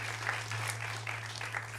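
Audience applause at a college honors convocation, a steady wash of many hands clapping with a low mains hum underneath, no talk over it.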